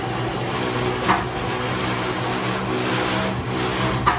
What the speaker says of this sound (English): This little lift struggling. You hear it?